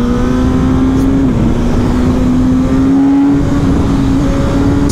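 A Suzuki GSX-S 1000 motorcycle runs at full throttle with a loud, steady engine drone that climbs slightly in pitch, overlaid by heavy wind roar, recorded close from the rider's position.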